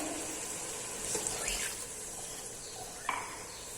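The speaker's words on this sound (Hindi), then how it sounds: "अब हम इसके अंदर पानी डालेंगे" Water is poured into a pot of fried masala for matar pulao, giving a faint splashing hiss over a low background with a small knock near the end.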